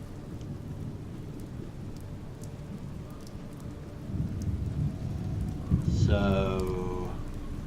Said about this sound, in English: And all of a sudden it's raining as well.